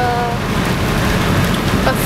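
Steady heavy rain during a thunderstorm in Scotland, a loud continuous wash of noise heard from inside a moving car on the road.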